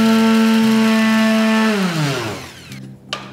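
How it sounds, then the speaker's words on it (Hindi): Mixer grinder coarsely grinding spices for gun powder (idli podi), a loud high whirring motor that winds down after about two seconds, followed by faint rattling of the jar. "इसको ग्राइंड कर लूंगी"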